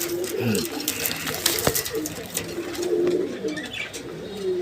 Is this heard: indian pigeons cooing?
yes